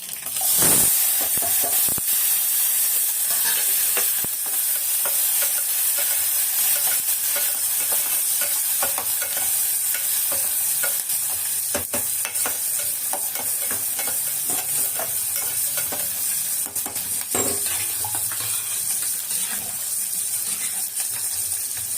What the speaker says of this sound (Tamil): கடுகு போட்டுக்கோங்க இந்த பாருங்க பூண்டு வெங்காயமும்